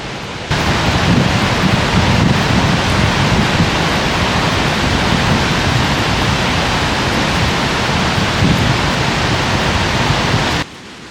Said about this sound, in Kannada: ನೀರಿನ ಬೋರ್ಗರೆಯುವ ಸೌಂಡ್ ಕೇಳಿದ್ರೇ ನಿಮಗೆ ಗೊತ್ತಾಗ್ಬೋದು ನೀರಿನ ಫೋರ್ಸ್ ಎಷ್ಟಿದೆ ಅಂತ